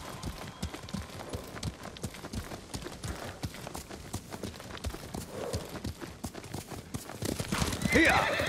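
A horse gallops in the samurai game Ghost of Tsushima, its steady rapid hoofbeats pounding throughout with a whinny near the end, loud and close.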